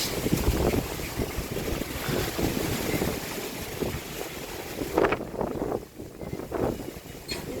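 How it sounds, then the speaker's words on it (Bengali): Strong wind from a Baishakhi storm with light drizzle roars over a rooftop garden and buffets the microphone continuously, with gusts rising and falling and a brief lull near the end. "কিন্তু এত বাতাস"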